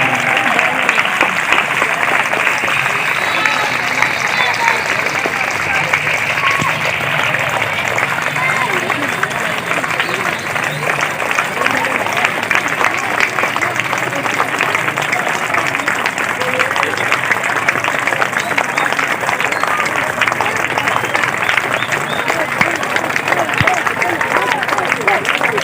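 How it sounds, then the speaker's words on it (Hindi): Loud, sustained applause from a large audience at an Independence Day celebration, steady dense clapping filling the whole stretch with crowd noise mixed in. "जोरदार तालियां।"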